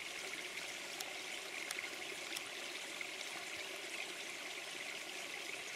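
Steady rushing water of Davis Creek, a tailed frog habitat, a continuous broadband flow with faint trickling detail, no voices, constant and fairly close throughout.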